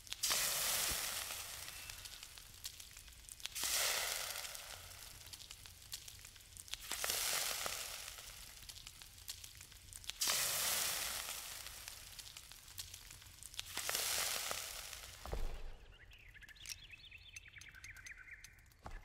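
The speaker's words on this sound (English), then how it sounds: "I still need the mushroom to be cooked." A mushroom cooks over a fire in the game Enshrouded, loud steady sizzling that swells and fades in several long waves, ending with a brief chime-like tone.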